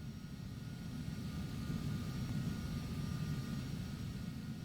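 Steady low engine rumble of an aircraft taxiing in a flight simulator game, a continuous hum with faint high whine, constant level throughout, no talking.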